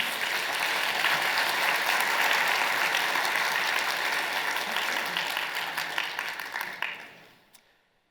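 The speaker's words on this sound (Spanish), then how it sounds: "Si lo crees, dale un aplauso al Señor." Church congregation applauding together, loud and sustained for about seven seconds before fading out near the end.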